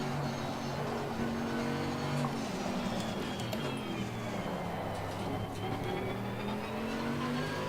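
A race car engine lapping Snetterton circuit, steady loud droning with pitch rising and falling through gear changes and braking, heard from inside the car, with a voice talking over it.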